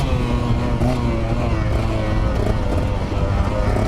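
A 2021 KTM 125 XC two-stroke dirt bike engine drones loud and close as it downshifts on a snowy trail, continuous buzzing revs with wind rush.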